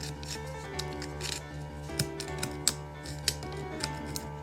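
Scissors snip in a series of quiet, crisp clicks at an uneven pace during work on a refurbished wagon, over a steady low background hum.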